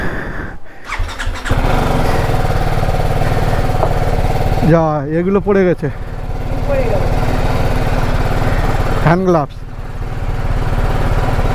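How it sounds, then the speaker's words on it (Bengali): BMW motorcycle loaded for a long ride, its engine starting and settling into a loud steady idle with two sharp squealing bursts, while a person speaks nearby. "বিএমডাব্লিউ বাইক নিয়ে আমার স্বপ্নের রাইড"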